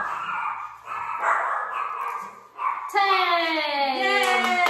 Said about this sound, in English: Our dogs are being annoying.